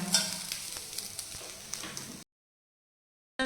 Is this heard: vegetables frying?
yes